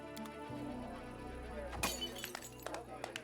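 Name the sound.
glass shattering sound effect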